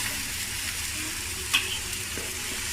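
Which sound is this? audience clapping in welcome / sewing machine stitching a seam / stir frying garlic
stir frying garlic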